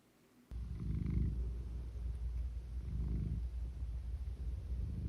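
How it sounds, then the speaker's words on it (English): A cat purrs close by in a steady, low rumble that swells and eases with each breath, continuous and alone after a brief quiet start. "Well, at least he's purring, you guys."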